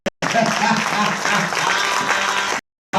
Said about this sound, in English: Give the round of applause for Light Skin, aka Ralph Hogan